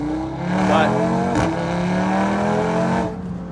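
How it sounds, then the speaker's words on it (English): A 600 hp turbocharged Audi RS3 with a stock turbo revs hard nearby, its engine note rising and holding in a loud, steady drone, with a voice talking over it. "This is the definition of a savage turbocharged engine right here."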